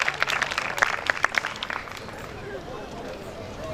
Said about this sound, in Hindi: शाबाश, तालियां बजाएं परस्तारों को